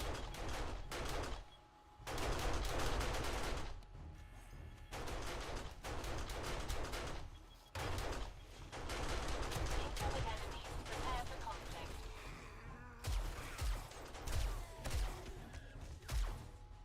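Turrets placed in the 7 Days to Die video game fire rapid, continuous bursts of gunfire for many seconds, with brief pauses between volleys, loud and close.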